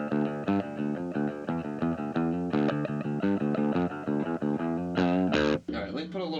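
An electric guitar on its bridge pickup plays through a Fender Vaporizer amp, breaking up even at half volume: loud, distorted chords and riffs with rhythmic strums and bright overdriven harmonics.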